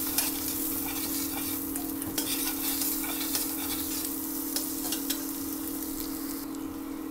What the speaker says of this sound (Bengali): আদা কুচি আর রসুন কুচি যোগ করার পর কিছুক্ষণ এটা একটু নাড়িয়ে নিচ্ছি।